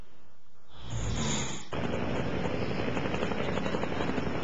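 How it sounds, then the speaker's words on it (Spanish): A helicopter flies overhead with a loud, steady rotor roar that swells in after a short quieter start and then holds a dense, continuous drone. "En este helicóptero era transportado el hermano Juan Ortiz, alias Chamalé, supuesto capo del narcotráfico."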